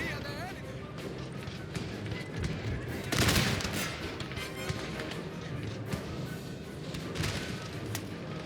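Musket volley fire in a Napoleon: Total War battle, with dense crackling gunfire rolling continuously at a steady loud level and a heavier burst swelling partway through.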